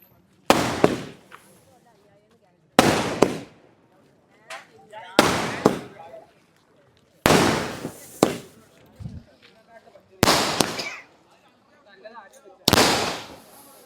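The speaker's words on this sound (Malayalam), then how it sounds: "വെടിക്കെട്ട്, അത് സാമ്പിൾ വെടിക്കെട്ട്." Sample fireworks on the eve of Eid go off in six loud, sharp blasts spaced about two seconds apart, each followed by a short crackling tail and near silence between bursts.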